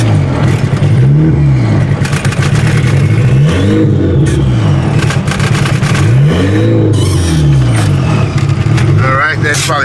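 A Honda Civic engine revs repeatedly in slow rising-and-falling surges while the car reverses, loud and close, with people talking over it.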